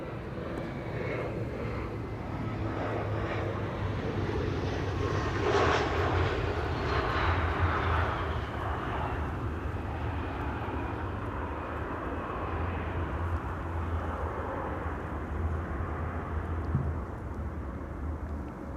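Jet aircraft engines at Amsterdam Schiphol Airport give a broad, continuous roar with a slowly shifting whine, steady and fairly loud throughout, with no voices.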